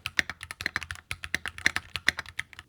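Fingers type on a mechanical keyboard in a quick, uneven run of sharp clicky keystrokes, heard close up with no voices.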